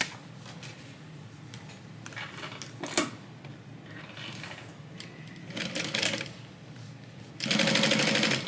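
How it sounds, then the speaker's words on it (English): A sewing machine stitches along the exterior edge of a tote bag, running in short bursts of rapid needle clatter separated by pauses, close and fairly quiet, with a longer steady run at the end. "We're going to sew along the entire exterior of this with a 1/8 inch seam allowance."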